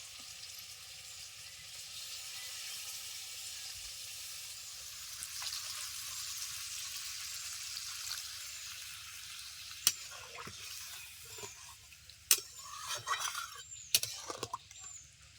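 Hot water poured into a lightly spiced fish tel jhal curry in a pan sets off a steady, fairly quiet sizzling hiss, joined near the end by a few sharp clinks of a utensil against the pan.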